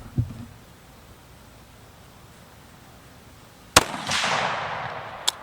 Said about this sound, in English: I'm going to shoot 2 more rounds and see where it comes out.